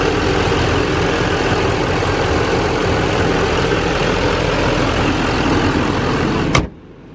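A 2015 GMC Sierra 3500HD wrecker's 6.6 Duramax diesel engine idles loudly and steadily at close range, then cuts off abruptly near the end, leaving near silence.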